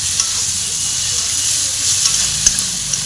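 Onions frying in oil in a pan for chicken kosha, a steady loud hiss of sizzling with a few faint pops, close and continuous, without speech.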